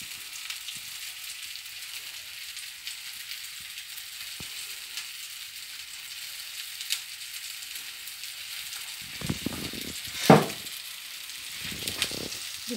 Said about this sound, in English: Just let's keep frying it for a couple of minutes on each side